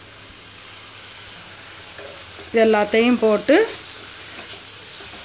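A steady sizzle of onions, tomatoes and curry leaves sautéing in a pan continues throughout, with a short spoken phrase partway through.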